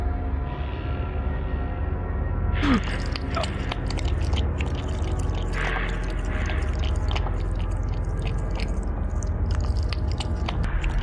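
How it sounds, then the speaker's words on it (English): In the video game Deep Fog, a monstrous dog chews on a monster's corpse, giving wet, crunching bites and squishy gnawing sounds over a low droning game ambience, moderately loud and continuous. "The dog is eating the corpse of the monster."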